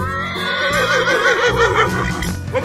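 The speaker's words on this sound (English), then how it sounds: "horse." A horse gives a loud, quavering whinny that rises and falls for over two seconds, heard close and alone.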